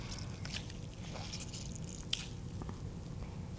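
Wet food being squeezed by hand to press out its liquid, a soft squishing and patter of dripping water heard close up, with a brief sharper squelch partway through and a low steady background hum throughout.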